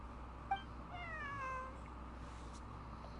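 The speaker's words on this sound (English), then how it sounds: "This is my friend's cat." A cat in the video game Genshin Impact lets out a single drawn-out meow over a quiet background hum, with a couple of brief clicks around it.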